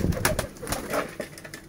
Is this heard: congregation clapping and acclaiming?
no